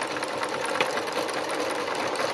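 Domestic sewing machine running steadily for free-motion embroidery, a continuous fast mechanical whir and clatter of stitching, close and fairly loud with no talk.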